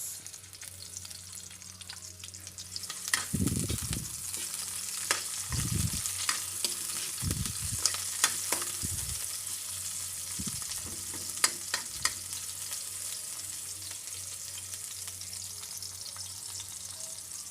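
Onions sautéing in a pan for a Filipino cassava-leaf dish cooked in coconut milk: a steady close sizzle broken by several dull knocks and scrapes of stirring.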